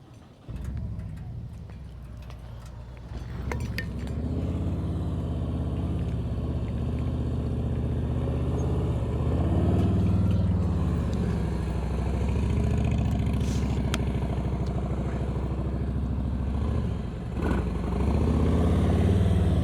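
A motorcycle engine rumbles steadily at modest revs during slow-speed riding, close by, with slight rises and dips in throttle over a continuous drone.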